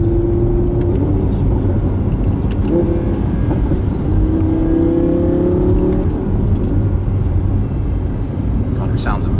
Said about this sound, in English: You do get addicted to unnecessary downshifts like in the Mercedes as well,